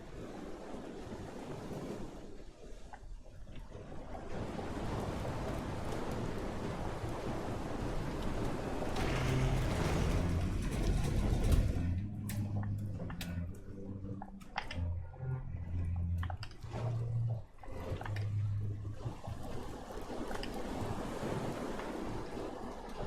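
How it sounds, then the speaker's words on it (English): Boat in the video game FAR: Changing Tides sailing at full tilt under sail and engine, a steady rushing roar of wind and waves with a low engine rumble that grows louder midway, no talk. "We got the sail and we got the engine going."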